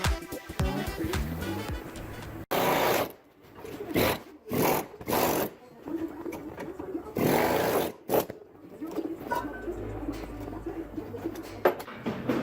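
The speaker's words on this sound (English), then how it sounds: "Next I'm gonna take off as much of the rubber as I can using an impact hammer with a blade on the end." An impact hammer fitted with a blade chisels rubber out of a Mazda 3 lower control arm bushing, loud rattling bursts starting and stopping in several short runs between quieter pauses.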